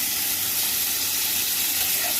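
Steady hiss and sizzle from water added to chicken red sauce pasta in a hot pan, continuous and close with no talking.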